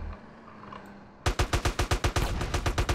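Automatic gunfire in GTA San Andreas erupts after a quiet start, a rapid string of about a dozen loud, evenly spaced shots that run to the end without talk.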